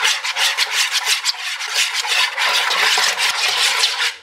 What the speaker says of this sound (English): So you're gonna whisk everything together.